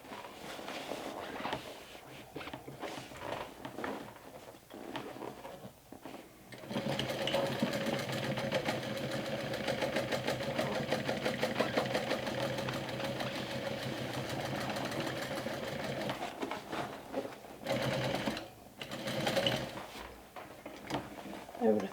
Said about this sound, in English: I'm going to go ahead and stitch correctly now.